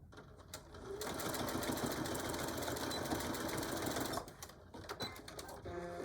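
Sewing machine stitching a jean pouch, a rapid, steady mechanical whirring that runs for about three seconds, framed by quieter clicks and handling noise before and after.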